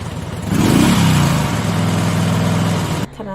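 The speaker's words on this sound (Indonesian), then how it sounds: "saya cepat-cepat starter motor untuk segera pergi dari tempat" A motorcycle engine fires up and revs hard, rising in pitch, then settles into a steady, loud running drone close by before cutting off near the end.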